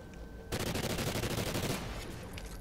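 Rapid automatic gunfire from a shooter video game, a loud dense burst of rattling shots that starts abruptly after a brief quiet moment and runs continuously, thinning toward the end.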